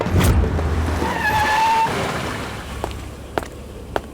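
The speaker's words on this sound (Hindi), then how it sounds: "कोई गाड़ी तो आ रही है।" A car approaches at night on a quiet road, its engine swelling close in the first seconds before settling, followed by low rumble, a faint squeal and scattered sharp knocks.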